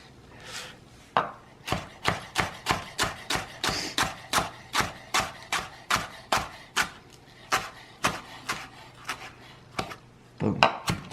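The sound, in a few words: chopping rolled-up vegetables with a knife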